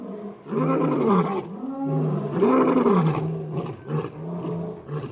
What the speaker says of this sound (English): Lionesses have a formidable roar, and they'll all band in.